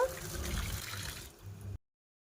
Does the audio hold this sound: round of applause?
no